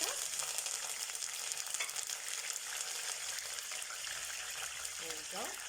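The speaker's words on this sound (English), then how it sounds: "You see it's frying up the curry leaf" Steady, dense sizzle of curry leaves with garlic frying in hot oil, continuous and close, with faint clinks near the end.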